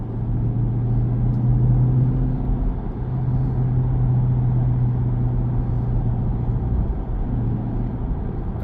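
2023 Chrysler 300C with the 6.4 HEMI V8 and exhaust pulling hard during a night drive, a steady loud low drone from inside the cabin with a brief dip around the shift, no talking.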